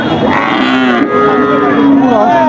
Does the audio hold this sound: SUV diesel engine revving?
no